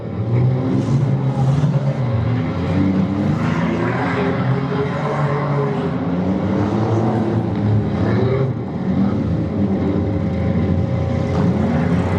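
Several demolition derby cars race in a powder puff heat at a Michigan derby, their engines droning and revving in overlapping waves throughout, loud and continuous with a crowd-like wash behind.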